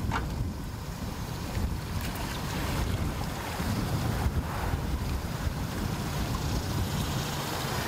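A boat with a Yamaha 200 outboard motor near a boat ramp on a windy day: a steady, low rumbling wash that blends with heavy wind buffeting and water noise for the whole stretch, with no voices.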